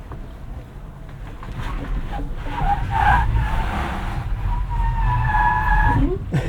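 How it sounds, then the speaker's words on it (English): A 2025 Rivian R1S Adventure Dual Motor does an off-road burnout on a loose surface, with steady tire-spin roar and a rising electric motor whine under rough wind buffeting, all close and loud. "It's doing a burnout."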